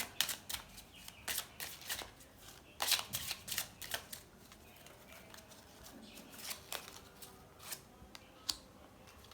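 Tarot cards being shuffled, quick riffling bursts of crisp card flicks in irregular clusters, close and fairly quiet against a soft room background.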